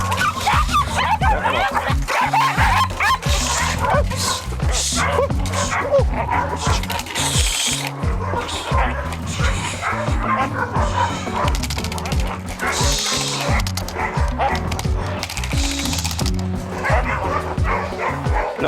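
Several puppies bark, yip and whimper continuously and excitedly at close range during protection training, with a trainer's voice talking among the noisy chorus.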